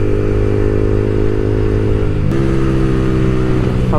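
An Aryan 5 mini super bike motorcycle on an evening ride, its engine droning loud and steady with a sharp gear change or rev shift partway through, alone without talk.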